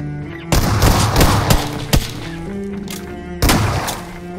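Groza assault rifle fire in the battle royale game PUBG, loud, dense automatic bursts that start sharply, pause briefly and then resume with another burst.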